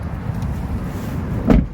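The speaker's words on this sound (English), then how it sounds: "The doors shut quite nicely" The door of a 2020 GMC Acadia swings shut with one solid, close thump near the end, after a stretch of low rumbling outdoor background and no speech.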